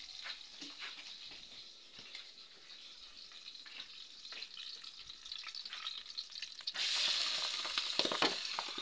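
Onion frying in a pan gives a steady sizzle that swells louder and brighter toward the end, with light stirring and clinks throughout and no voices.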